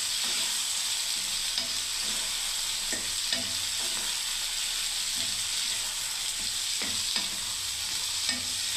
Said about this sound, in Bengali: এবারে দেখুন বন্ধুরা বেশ আমি কিছুক্ষণ ভাজতে থাকবো বন্ধুরা।